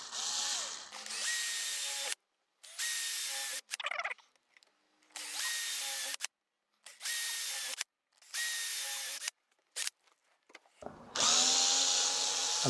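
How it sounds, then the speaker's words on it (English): A power drill with a 5mm bit chain-drills a row of holes by hand, in repeated short bursts with whining speed changes and quiet gaps between each hole, close and fairly loud. "I've decided to freehand chain drill this and then file it into finished shape, and I use a 5mm drill for that."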